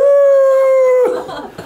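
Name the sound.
person imitating a wolf howling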